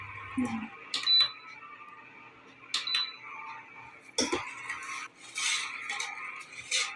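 Milk payesh with rice stirred in a pot: a few sparse spoon scrapes and light metallic clinks against the pot, close but fairly quiet, separated by short near-silent gaps.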